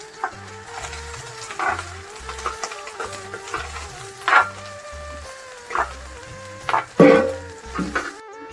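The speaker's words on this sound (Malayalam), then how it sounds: "കടുകിട്ട് ഫ്രൈ ഇടാൻ പോകും" Mustard seeds fry in hot oil in a pan with a steady sizzle, punctuated by scattered popping crackles and occasional stirring scrapes, close by and moderately loud, no talking.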